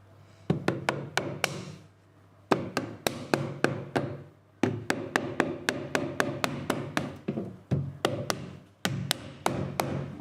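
A passport holder being hammered on an anvil, with sharp metallic knocks in quick bursts of five or six blows separated by short pauses, close and distinct with no talk.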